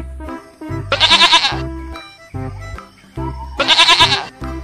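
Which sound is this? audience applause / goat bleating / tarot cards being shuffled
goat bleating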